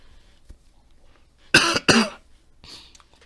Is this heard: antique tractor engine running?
no